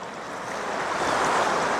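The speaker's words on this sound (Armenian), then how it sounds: "արի տես ինչ ջուր է գալիս տեղից" Water gushes from a spring in a steady, broad hiss heard up close, swelling slightly louder as it goes, with no voices over it.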